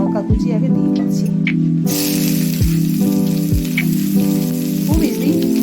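Chopped onion and green chilli fry in hot oil, a loud close sizzle running throughout while someone talks over it, with a few knocks from the spoon against the pan.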